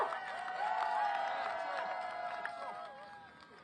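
A protest crowd in South Korea applauds and cheers to welcome a speaker, a sustained outdoor wash of clapping and voices heard at a moderate distance, easing off toward the end.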